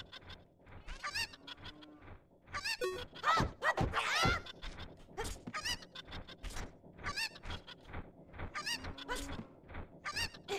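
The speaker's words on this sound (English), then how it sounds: "I would swear there's a chicken in that box." A chicken in the Zelda: Ocarina of Time video game squawks and clucks from inside a crate in repeated bursts, fairly loud and close, with a few louder honking cries in the middle.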